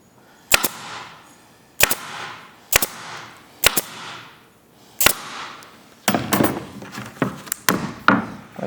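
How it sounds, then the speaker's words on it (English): A staple gun fires through roller shade fabric into a plastic bottom rail, giving five sharp, evenly spaced snaps followed by a quicker cluster of clacks, all close and loud. "You want to staple maybe every couple of inches, trying to keep it centered to the plastic."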